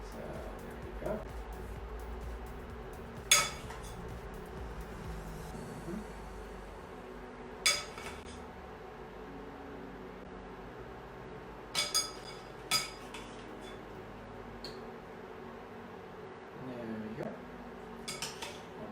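Dessert being spooned into a bowl in a home kitchen, with soft scattered clinks of cutlery against dishware, some sharp and some faint, over a steady low background hum.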